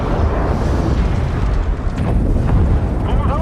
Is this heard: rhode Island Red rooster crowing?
no